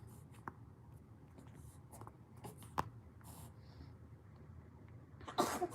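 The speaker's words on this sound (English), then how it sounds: "Little sneezes." A person lets out small, soft sneezes, the clearest a quick burst near the end, in a very quiet room with faint scratching sounds beforehand.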